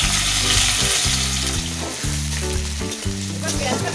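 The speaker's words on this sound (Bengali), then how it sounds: "এবার পেঁয়াজটা ভালো করে ভেজে নেব।" Onions with five-spice seeds and green chillies frying in mustard oil in a wok, a steady loud sizzle throughout, alongside a bright tonal hum and light stirring.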